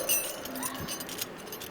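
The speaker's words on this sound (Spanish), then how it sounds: "al escuchar el sonido de las monedas" A small handful of gold coins jingles and clinks together in a short, bright metallic rattle, heard close and alone for under two seconds.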